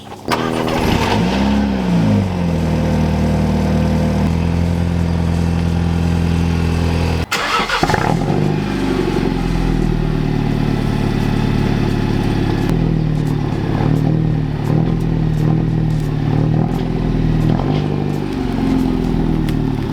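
Two Mini Cooper engines cold start one after another, the first a stock Mini and the second a modified one: each cranks, catches and settles into a loud, close, buzzing high idle with rising and falling revs.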